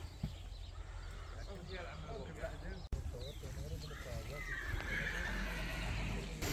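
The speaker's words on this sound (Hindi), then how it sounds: "एक घोड़े को बाहर लेके गए हैं तो बाकी सारे जो है ना मुस्तरब हो गए हैं" Restless horses in a stable in Unaizah whinny and neigh repeatedly over a noisy background, with hoof clatter and a voice talking nearby.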